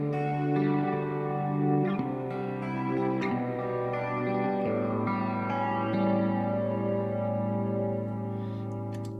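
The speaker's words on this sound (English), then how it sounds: "Here's some reverb" A Chase Bliss Lost and Found multi-effects pedal with reverb placed after the effects gives sustained, shimmering, chorused and slightly distorted chords that wash together in a steady, loud ambient tail with no talking.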